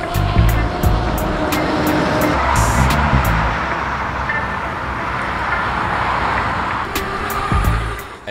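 Continuous loud road and wind roar as a CyklonEbike Venom Extreme 600 W e-bike with a QS205 hub motor accelerates on a road, a broad rushing noise with no clear motor whine standing out.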